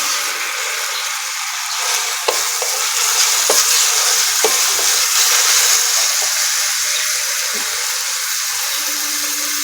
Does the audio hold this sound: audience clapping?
no